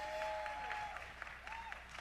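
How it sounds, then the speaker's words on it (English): Faint applause from a comedy club audience greeting a comic, soft continuous clapping with a whistle-like tone rising over it and a voice briefly audible. "Clap her up to the stage."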